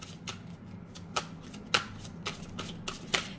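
Tarot cards being shuffled by hand, a run of soft papery riffles and crisp flicks with a few sharper snaps, close and fairly quiet, no voices.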